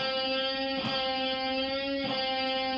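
One sustained, buzzy electric guitar note bent slightly twice by about a quarter step, its pitch wavering briefly each time before settling back.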